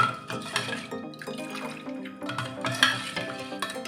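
A spoon stirs kokum juice into coconut milk for solkadhi, giving soft liquid swishes and gentle clinks in an irregular rhythm, close up and fairly quiet.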